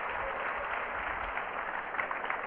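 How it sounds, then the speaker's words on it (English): Audience clapping at a World Science Festival talk by mathemagician Arthur Benjamin, a dense, even round of applause from a crowd, fairly soft and steady throughout. "Give yourselves another nice round of applause."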